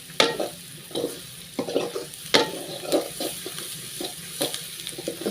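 A pan of vegetables frying in turmeric-tinted oil for a grated-coconut palya, scraped and stirred with a spatula in bursts of clinks and sizzle over a low steady crackle, close up, no talk.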